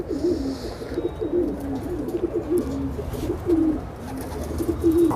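Punjabi pigeons coo nearby in a steady series of low, rolling calls repeating every second or so, over a faint rustling background.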